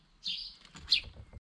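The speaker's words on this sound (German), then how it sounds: "Da kommt eine Amsel, ein Männchen." A male common blackbird calls at a garden bird feeder, giving a couple of clear, bright chirps followed by a lower rustling sound, close and alone without talk.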